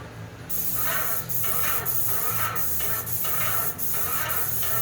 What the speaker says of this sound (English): You can see how nice and easy this thing is spraying. Don't have it bring down real heavy. Paint is atomizing beautifully.